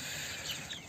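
Desi chickens on a poultry farm, 51 days old and let outside, giving a brief faint clucking over a steady background hiss.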